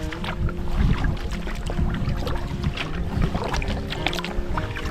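A canoe is paddled with a double-bladed paddle on water after ice-out in northern Wisconsin, with close splashing and dripping strokes over steady wind noise.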